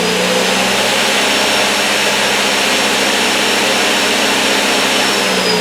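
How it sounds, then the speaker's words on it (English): A 2004 Haas SL-20T CNC lathe spindle whirring at high speed, a loud steady mechanical whine and rush heard up close with no talking. It holds a constant pitch throughout and never clearly winds down to a stop. "and then I'm going to stop the spindle."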